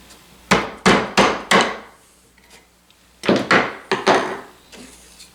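Chiseling wood for a push stick handle produces two close, sharp clusters of four or five hard knocking blows each, separated by a short quiet pause.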